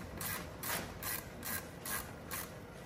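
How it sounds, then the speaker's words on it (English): A 10 mm ratchet wrench loosens the ground cable on a GMC Terrain / Chevrolet Equinox battery, giving several quick bursts of metallic clicking in a steady rhythm, close and alone with no talk. "So I have my 10 millimeter here. I'm gonna go ahead and disconnect the ground cable."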